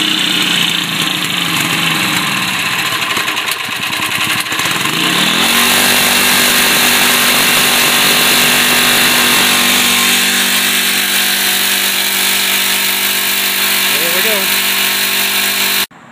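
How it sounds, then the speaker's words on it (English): A homemade vapor generator engine runs loud and close with a buzzy, high-revving drone, its pitch dropping and settling into a steady hum partway through, and a voice talks faintly over it. "Trying to make the generator run a lot better."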